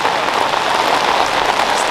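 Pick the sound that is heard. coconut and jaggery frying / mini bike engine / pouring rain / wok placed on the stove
pouring rain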